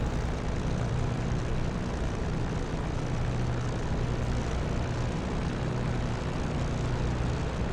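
WWII propeller aircraft engines warming up in a Reflected Simulations flight simulator, a steady loud droning roar with low engine hum that holds constant throughout, no voices.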